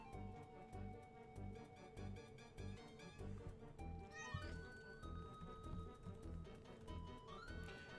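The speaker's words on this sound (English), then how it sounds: "Oh yeah, I found my cat, dude." A cat meows several times, rising calls that stand out over continuous video game music with a steady beat, fairly close and clear.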